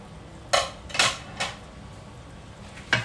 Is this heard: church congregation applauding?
no